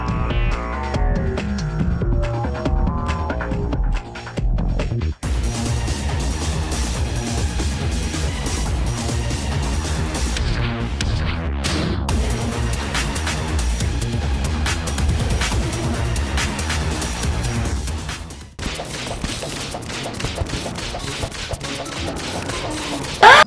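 Skeletron boss fight in Terraria: dense, continuous game sound effects with rapid volleys of shooting skulls and hits over a throbbing soundtrack, loud and busy throughout, with brief drops near the start and end.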